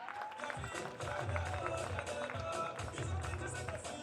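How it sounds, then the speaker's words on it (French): Applause from a live audience at a comedy stand-up show, a dense steady patter of many hands clapping throughout, with a faint voice in the mix. "On l'applaudit très très fort"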